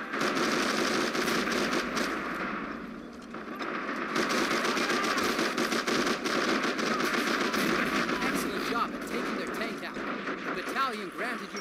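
Sustained gunfire aimed at an armored vehicle in the World War II strategy game Men of War: Assault Squad 2, a dense, continuous barrage of rapid shots and rumbling battle noise filling the whole stretch at steady loudness, with a voice talking over it.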